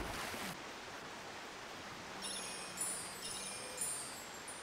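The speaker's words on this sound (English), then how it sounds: "Head down this waterfall." Steady broadband rushing of a waterfall in Monster Hunter Rise, a constant mid-level wash of falling water with a few faint tonal game sounds layered on top and no talk.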